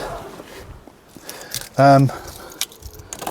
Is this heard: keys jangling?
yes